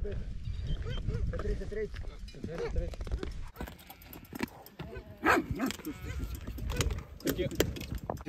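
Several dogs bark near cyclists on the road during the Transcontinental ultra-distance bicycle race, with rough, scattered barks mixed with clattering and road noise under people talking.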